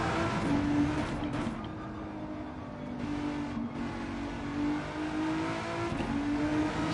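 Volkswagen GTI VGT engine in a racing video game at Deep Forest Raceway, a steady loud drone rising and falling with revs, with brief gear shifts and no talking.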